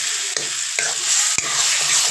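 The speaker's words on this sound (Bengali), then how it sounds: "নাড়াই দেবো পুরোটা।" Eggplant bharta being stirred in a frying pan, a steady close sizzle of frying broken by a few sharp scrapes of the spatula against the pan, with no voices.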